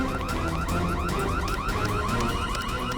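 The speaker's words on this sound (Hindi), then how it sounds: "ये अलार्म कैसा? लगता है लिफ्ट अटक गई है।" An electronic alarm rings from a stuck lift, a steady loud warbling tone repeating in rapid cycles, continuous and alone.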